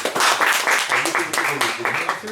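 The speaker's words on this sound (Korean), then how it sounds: "박수 한번 쳐주세요" Audience applause at a Korean church gathering greets an elder being introduced, a dense, steady wash of many hands clapping close by that runs loud through the whole stretch, with voices mixed in.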